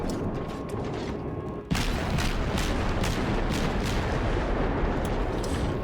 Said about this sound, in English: So it's nice to have a ship with so many guns.